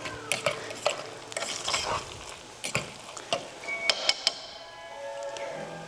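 Spoon scraping and clacking through garlic mashed potatoes with pepper in a pot, a run of uneven knocks and scrapes close by, with a faint sizzle of cooking underneath.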